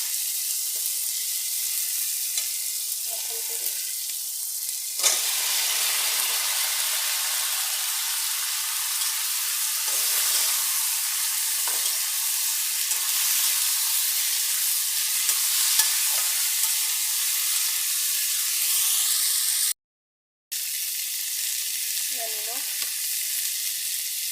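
Cauliflower sizzles loudly in hot oil with softened tomatoes, a steady bright frying hiss that carries on throughout, broken by scraping stirs of a spatula and one brief dropout near the end.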